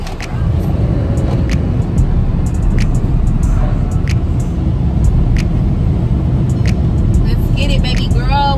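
Continuous road rumble inside a moving car, a loud steady low drone with scattered clicks and rattles, while people talk over it.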